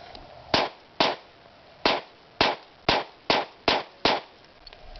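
A stainless Kimber Stainless II 9mm pistol fires a magazine of eight sharp shots at uneven intervals, each loud crack ringing out briefly over a quiet background.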